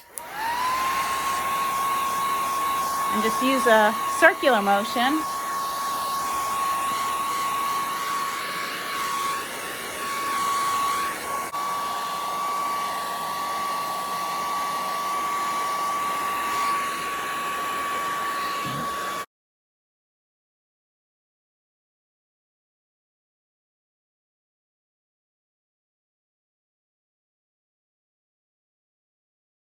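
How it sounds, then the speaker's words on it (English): A hair dryer blows steadily up close onto a bronze metal coating with a constant whirring hum, while a person speaks briefly over it before it cuts to silence. "I'll take a hair dryer or a heat gun"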